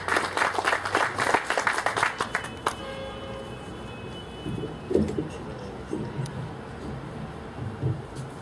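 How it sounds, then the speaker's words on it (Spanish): An audience at an economics forum applauds loudly for the first few seconds, then the clapping fades to scattered faint claps and room noise. "recibimos con un fuerte aplauso a la colega economista Julia Justo Soto."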